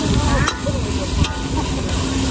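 Spinach and eggs sizzle loudly in a hot wok at an outdoor rural market in Shandong, a steady fry hiss broken by a few metallic spatula scrapes and faint background talk.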